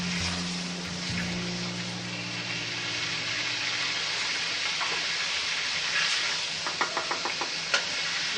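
Chicken frying in about a cup of oil in a karahi, a steady, broad sizzling hiss throughout, with a few quick clinks of a utensil near the end.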